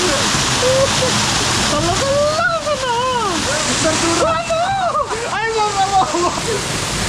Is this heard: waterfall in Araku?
yes